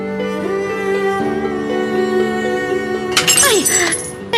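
Glass drops and shatters with a sudden bright crash and tinkling fragments near the end, following a sustained musical drone in a home setting.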